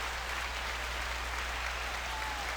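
A long burst of recorded applause: dense, steady clapping from a large crowd, fairly faint and continuous from start to finish with no voices over it.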